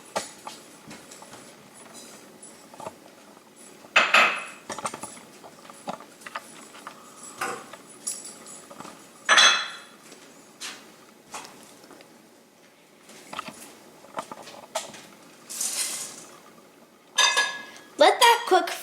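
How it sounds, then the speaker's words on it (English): Whisk stirring brownie mixture of sugar, butter and chocolate chips in a pot on the stove, quiet scraping with sharp metallic clinks against the pan at irregular intervals, a voice talking now and then. "Let that cook for around 8 minutes while stirring with a whisk."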